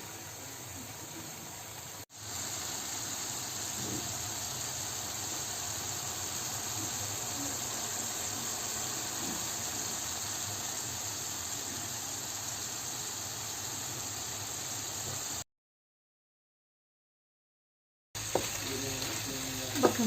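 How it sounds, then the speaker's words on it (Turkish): Chicken doner meat frying in a pan at home, with a steady, even sizzle hissing continuously and briefly cutting out before resuming with a few louder crackles. "Şimdi iyice kızarana kadar pişireceğim."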